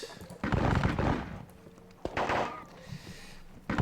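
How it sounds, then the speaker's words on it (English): Musket volleys crack out in a Wargame Design Studio battle of Kaiserslautern, several sharp bursts with rolling tails spaced a second or so apart, fairly loud against a quieter background. "They will lay volleys on these guys now"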